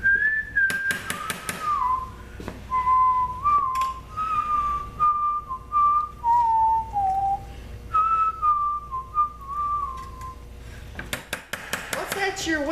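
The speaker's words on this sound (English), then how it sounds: "What's that you're whistling?" A person whistles a wandering tune in clear, sustained notes at close range while making beer soap, with clinks of pots, dishes and utensils around the start and end.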